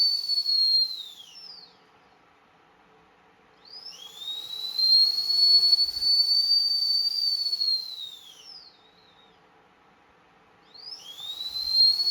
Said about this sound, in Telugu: సో ఇలా విజిల్ వస్తుందన్నమాట నా పూజ కంప్లీట్ అయిపోయే టైంకి.